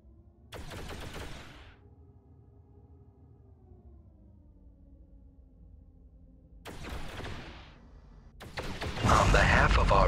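In X3: Albion Prelude space combat, weapons fire in two sharp bursts of rapid shots, first near the start and again late, separated by a low droning hum, with a louder crackling blast at the very end.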